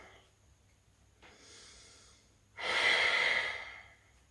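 Deep breathing during a vinyasa yoga flow: a soft inhale, a pause, then a louder, longer airy exhale close to the microphone in a quiet room.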